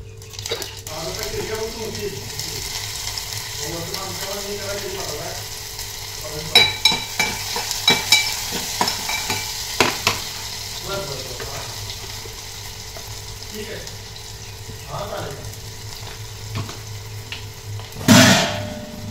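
Ghee tempering for phodni rice crackles and sizzles in a pan with scattered spoon clinks and stirring, a louder burst near the end, while people talk intermittently nearby.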